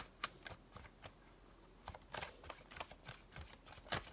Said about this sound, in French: je vais prendre 3 cartes aussi de l'oracle des miroirs